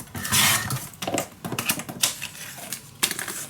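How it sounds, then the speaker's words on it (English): Paper being snipped away while trimming a piece for a handmade mini album, a run of close, crisp scissor cuts in irregular bursts, loudest near the start and again near the end, with no voices. "Make just a mark and then just cut it away."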